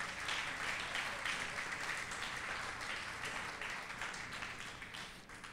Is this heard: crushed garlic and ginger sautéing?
no